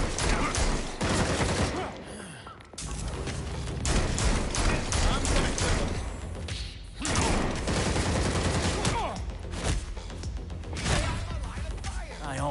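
Video game gunfire in dense, chaotic rapid bursts with crashes, nearly continuous and loud, with people talking and shouting over the shooting.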